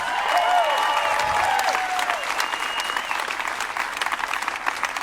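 An audience at a community event bursts into loud, sustained applause and cheering, with whistles cutting across the clapping before the din settles into steadier clapping.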